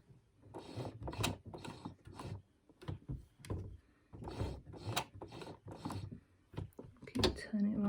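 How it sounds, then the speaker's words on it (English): Hand-cranked machine being turned in short bursts, a run of mechanical clicks and ratcheting gear rattles at close range, each turn separated by brief pauses. "Just going to hand crank it around this corner because it's so small."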